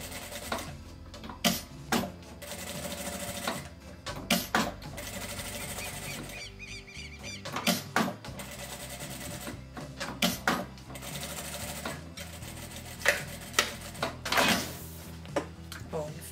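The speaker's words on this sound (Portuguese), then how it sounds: "Agora, nós vamos passar uma costurinha aqui e outra aqui." A sewing machine stitches seams on a fabric oral-hygiene kit, running in bursts of rapid mechanical whirring broken by short pauses, clicks and handling noises, with someone talking between runs.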